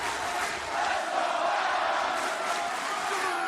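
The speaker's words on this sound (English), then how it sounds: "Crowd here in the Garfield Coliseum in full support of the Rated R Superstar." A wrestling crowd in the Garfield Coliseum cheers and roars in a sustained, distant wall of noise at an AEW Dynamite tag match, holding level with a few shouted rises.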